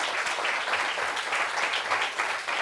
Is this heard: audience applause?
yes